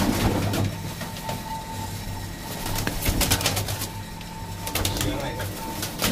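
Pigeons in a crowded loft, low cooing and rustling wing flutters mixed with shuffling and faint clatter, close and continuous, with a low steady hum beneath.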